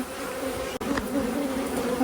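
Honey bees from two hives drone in a steady, close buzz during a summer hive inspection, the hum continuous with one brief dip partway through and no talking.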